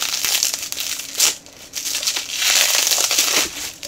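Packing material and plastic wrap crinkle and tear as a well-protected Evoretro box is unwrapped, producing close, continuous rustling with several louder crumpling bursts.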